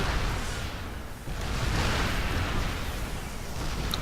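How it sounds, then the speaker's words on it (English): Siege tank artillery fire in a StarCraft II professional match, heard as a continuous rumbling barrage of booms and bursts, fairly loud and dense with no clear separate shots. "Siege tanks going off."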